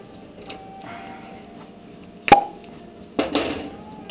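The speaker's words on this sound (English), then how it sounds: "Yeah, that one's in there pretty good, so I'll use my corkscrew" A corkscrew working the cork out of a corked bottle of Blanche de Chambly beer, heard as quiet creaking and twisting, then a sharp pop, followed by a short clatter and rustle.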